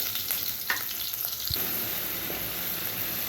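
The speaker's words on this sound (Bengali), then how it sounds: "একটা হাঁড়ি বসিয়ে তেল গরম করে নিয়েছি আর পেঁয়াজও দিয়ে দিয়েছি তো পেঁয়াজটা বেজে নিচ্ছি" Chopped onions sizzle in hot oil in a cooking pot with a steady, close crackling hiss, broken once by a brief clink or stir, and no voices.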